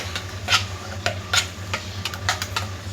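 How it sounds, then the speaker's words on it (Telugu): Six eggs being beaten in a bowl, with a whisk or fork tapping the sides in a brisk, uneven run of close clinks over a low background hum, with no talking. "గుడ్లు కొట్టేశాను, 6 గుడ్లు. దీన్ని బాగా బీట్ చేస్తాను ఇప్పుడు"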